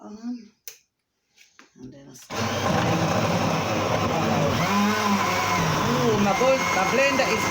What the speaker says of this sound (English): I'm going to switch my blender on and then I start.